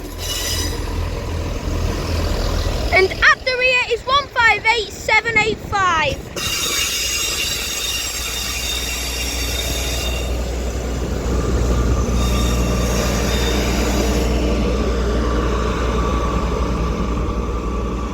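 An EMR class 158 train rumbles along close by arriving at Stockport while its wheels let out a loud, wavering high-pitched squeal for a few seconds, then settle into steady rolling noise.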